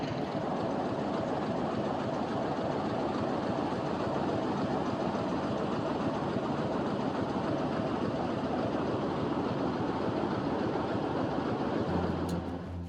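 A Narayanganj commuter train on the Dhaka to Narayanganj line keeps up a steady, loud rumble of rolling wheels and carriage noise for the whole stretch, easing slightly only at the very end.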